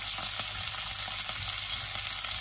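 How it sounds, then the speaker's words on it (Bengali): Bottle gourd and shrimp curry with a little turmeric fries in a pan, giving a dense, steady sizzle close by with faint stirring scrapes and no talk. "এটাকে আমি একটু কষিয়ে নেব, আর সাথে দিব কিছুটা টমেটো।"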